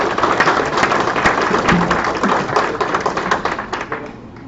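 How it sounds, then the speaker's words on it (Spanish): Conference audience giving a round of applause, many hands clapping in a dense irregular patter that stays fairly loud and steady before tapering slightly at the end. "Los recibimos con un fuerte aplauso, por favor."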